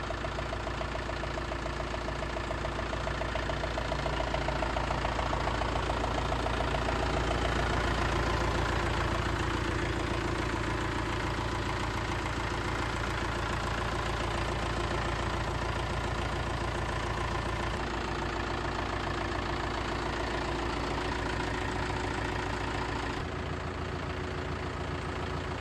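A 2021 Solis 4515 tractor engine idles steadily, a loud, even diesel rumble with constant low throb, running alone without voices for the whole stretch.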